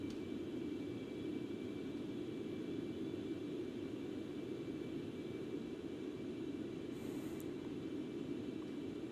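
A Concorde airliner in flight in the X-Plane 11 flight simulator gives a steady, unbroken broadband engine roar with a constant thin tone above it, even and unchanging throughout.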